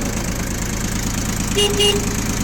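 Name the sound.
Yanmar YM1602D tractor engine running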